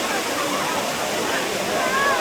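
Rushing water at Ourika Falls in the Atlas Mountains, Morocco, pours in a steady, loud, unbroken roar that fills the whole stretch.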